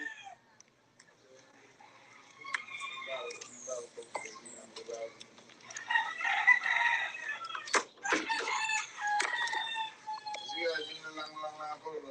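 Rooster crowing in the Virgin Islands, mixed with clucking fowl and a voice talking, mid-loud with busy overlapping calls.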